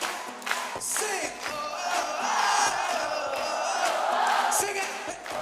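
A large concert crowd at a show in Barcelona sings and shouts along in a sustained, dense wash of voices, loud and continuous throughout with a few brief dips.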